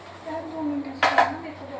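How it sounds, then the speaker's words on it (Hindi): A couple of brief clinks and clatters of dishes against each other, close by, over a low steady hum. "बर्तन बड़े साफ कर देती हूँ।"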